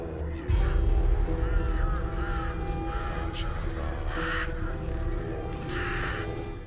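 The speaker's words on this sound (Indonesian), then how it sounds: "Di sana, ratusan burung gagak berterbangan." Hundreds of crows cawing on a rooftop, a dense, continuous chorus of harsh calls at close range with a low rumbling backdrop.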